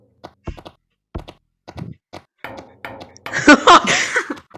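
Several hollow wooden knocks in the video game Gorilla Tag sound in a sparse, irregular sequence, followed by a denser burst of clattering, scraping impacts near the end.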